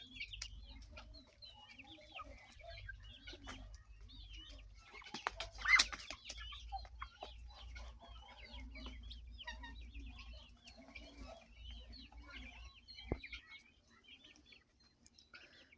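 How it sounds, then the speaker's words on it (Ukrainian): Chickens and a rooster cluck and chirp in a steady scatter of short calls, with a brief louder burst partway through, over a low rumbling background, in a farmyard with ducks and guineafowl at evening feeding. "О, півник."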